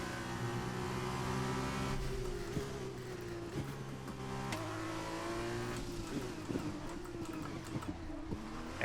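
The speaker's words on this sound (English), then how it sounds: "managed to get it slowed down nicely into the pit lane, not losing ourselves too much time there" Race car engine from the F1 2021 video game at the French GP, slowing into the pit lane with steady engine tone, downshifts and brief revs, loud and continuous without talk.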